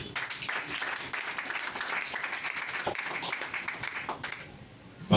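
An audience at a political party meeting breaks into continuous clapping, a dense crowd applause that holds steady for several seconds and then fades as a voice begins.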